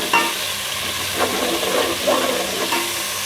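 Ginger garlic paste is stirred into golden-brown fried onions in a hot pan, giving a steady close sizzle with a few scraping stirs, with no talking.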